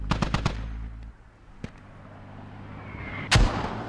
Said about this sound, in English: Oh, we're hearing some mortars coming in now